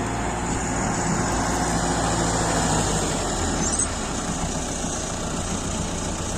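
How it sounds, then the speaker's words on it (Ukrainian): A tractor engine rumbles continuously at a constant idle in a field, with a low droning hum and no other sounds standing out. "Трактор в полі дир-дир-дир."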